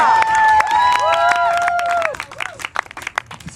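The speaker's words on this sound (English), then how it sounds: "Since we're doing a lot of applause so far" Outdoor crowd at a George Harrison birthday celebration in front of Capitol Records, clapping and cheering under sustained tonal music or voices, strong at first, then thinning into scattered claps and sharp bursts.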